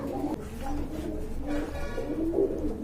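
Pigeons coo softly nearby in low, repeated throaty calls, several overlapping, with faint background murmur, at a pigeon market.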